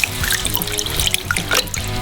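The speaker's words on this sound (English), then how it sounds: "Pour in the milk" Milk pouring into a frying pan of melted butter and flour for a cheese sauce, a steady close liquid trickle and splash lasting about two seconds with no talk.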